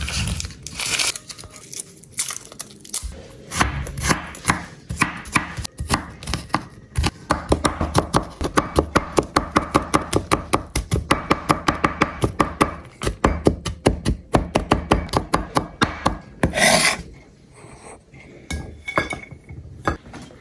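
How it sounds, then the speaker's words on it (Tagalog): Two garlic cloves minced with a knife on a cutting board for milkfish sisig, heard as rapid, close, rhythmic chopping taps in dense bursts with a few pauses, and no talk. "Imimin sa ating itong bawang."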